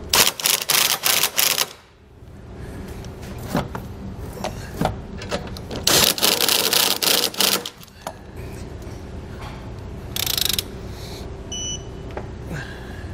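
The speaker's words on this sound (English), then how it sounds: "with a 3/4 inch socket, we're going to come back, we're going to tighten our hardware" A ratchet with a 3/4 inch socket tightens Curt trailer hitch flange nuts under a 2020 Chrysler Pacifica, giving close, rapid bursts of metallic clicking separated by short pauses.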